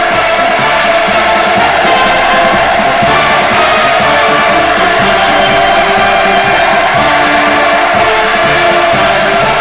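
A dense, loud crowd lining the streets of Pyongyang roars and cheers continuously during Putin's 2000 visit to North Korea, a massed wall of voices with shouts rising out of it.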